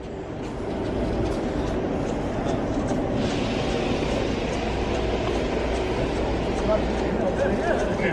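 A multi-car train rolls past on the platform at Bletchley station, a steady broad rumble with faint rail clatter that grows slightly louder midway, while people chat nearby.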